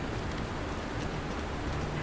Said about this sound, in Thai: ข้างนอกน่าจะฝนตกนะขออภัยด้วย